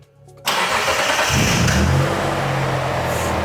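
A Mitsubishi GTO engine cranks briefly and catches, firing into a loud, steady running rumble close by, with a short rev as it settles into idle.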